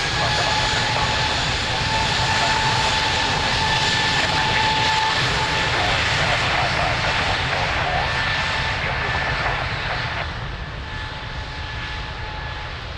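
A jet airliner roars down the runway on takeoff at Lisbon Airport, a loud, sustained engine rumble that holds steady before easing slightly, with faint radio chatter mixed underneath.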